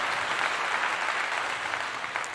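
Brief, sustained hand clapping from one or a few people, a fast even patter that stays steady throughout with no talking over it.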